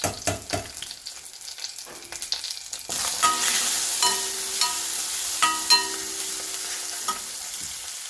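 Crushed garlic and chili flakes frying in hot oil in a pan, a steady close sizzle with crackling pops after an initial clatter of stirring, no voices.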